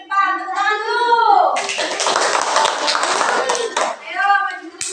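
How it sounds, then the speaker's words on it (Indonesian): Children in a classroom clap their hands together in a dense, lively burst lasting a few seconds, close and loud, with children's voices calling out just before and after. "Tepuk tangan dulu."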